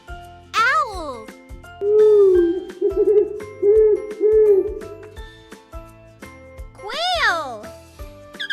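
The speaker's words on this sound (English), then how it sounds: "Owl." An owl hoots several times in a steady series over bouncy background music, with a loud swooping effect before and after the hoots.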